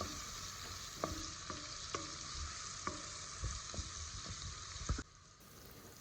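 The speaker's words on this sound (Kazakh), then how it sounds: "Пиязды жақсылап сары болып қуырылған кезде үстіне қара бұрышты салып, тағы да араластырып, кішкене қуырамыз" Golden onions with black pepper sizzling in a pan, a moderate steady fry broken by several light spoon scrapes and taps as they are stirred, no talking.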